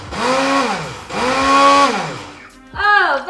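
A Blend Active blender whizzes a baked oats mixture in two loud, sustained bursts, each whirring motor run rising and falling, followed by a short pause and a final brief spin-up.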